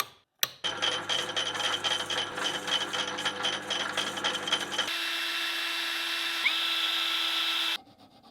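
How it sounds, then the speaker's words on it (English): A drill bores holes in a forged brass knife handle, whirring with a gritty, chattering bite for a few seconds before shifting to a smoother, higher whine and then cutting off abruptly. "Let's go drill the holes."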